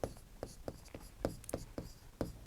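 A pen writes out a Class 10 geometry solution on paper, making a steady series of short, close scratching strokes in an irregular rhythm, quiet and alone.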